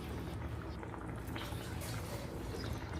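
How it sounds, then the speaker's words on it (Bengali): Bengali fish kalia gravy for katla or rui boiling in a pot, a quiet, continuous bubbling and popping with soft liquid gurgles throughout. "ঝোলটা ভালোভাবে ফুটে উঠেছে।"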